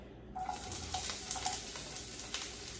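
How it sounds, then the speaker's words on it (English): Chopped onion hits a hot pan with a tablespoon of avocado oil, breaking into a steady soft sizzle and crackle, with light stirring taps over the frying. "And I just kind of want to cook the onion until it breaks apart."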